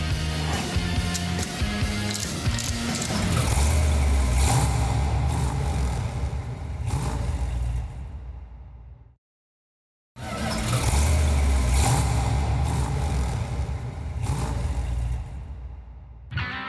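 A 1971 Dodge Demon 340 Six Pack V8 rumbles loud and close, revving and pulling away, cuts to a second of silence, then the same heavy engine roar resumes.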